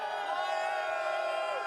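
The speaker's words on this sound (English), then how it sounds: "It's us and a bunch of people in the crowd right now." Dense arena crowd roaring and cheering at a Dota 2 tournament in Climate Pledge Arena, The International 2023, a steady loud wall of voices with whoops throughout.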